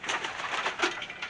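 An ice-coloured pigeon hen coos softly in a loft, a low burbling call close by, mixed with other bird sounds in the background.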